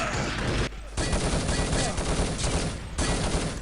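Rapid gunfire in a Low Gravity capture-the-flag video game, dense loud bursts of shots with short pauses, set against constant game noise.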